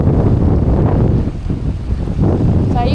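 Strong wind buffets the microphone on an island at the southern tip, a loud continuous rumbling roar with gusty swells and no talk.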